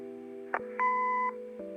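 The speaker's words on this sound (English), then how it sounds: "Leave a message after the beep." A short electronic answering-machine beep in the video game Kathy Rain sounds alone, a clean steady tone lasting about half a second between faint hums and clicks.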